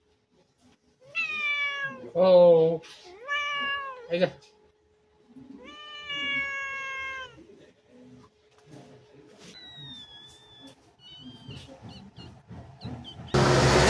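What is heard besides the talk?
cat meowing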